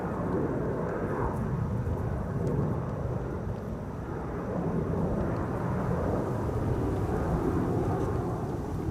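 Embraer jet climbing out after departure from Schiphol's Polderbaan runway 36L, a steady low rumbling roar heard from a distance, continuous and fairly faint with wind in the background.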